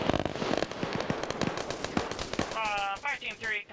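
Vehicle ammunition cooks off after a hit in an Arma military game, a rapid, irregular string of sharp cracks and pops, followed by a brief warbling radio-like tone, with faint voices underneath.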